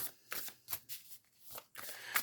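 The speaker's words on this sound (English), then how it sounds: "as I was shuffling these cards" A deck of tarot-style cards being shuffled, giving several short papery riffling bursts with brief pauses between them, close and fairly quiet, with no talking.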